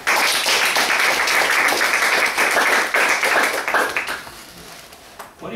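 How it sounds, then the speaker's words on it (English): A room audience claps loudly for a presenter, a dense sustained round that tapers off over the last second or so. "Let's give Carlos a round of applause"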